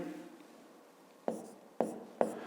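A maths solution written out by hand: a faint scratch of pen or chalk, then three sharp tapping strokes against the surface in quick succession, close and quiet, with no talking.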